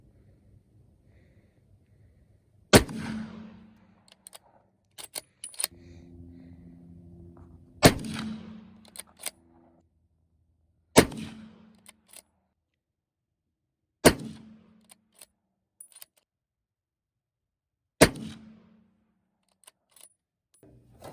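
A 30-06 rifle fired at pumpkins outdoors: five loud, sharp gunshots spread several seconds apart, each with a short echoing tail, separated by quiet gaps holding small clicks and rustles of handling.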